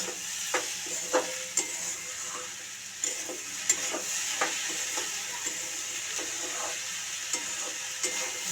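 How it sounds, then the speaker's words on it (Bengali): Sugar is stirred in a frying pan over boiled ingredients: a soft continuous sizzle under repeated scraping strokes of a spoon, roughly one or two each second, close and clear. "চিনিটা দিয়ে নেড়ে দেব।"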